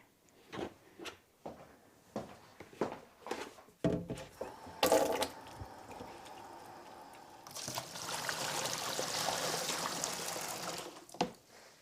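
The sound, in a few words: water poured from small bucket into large bucket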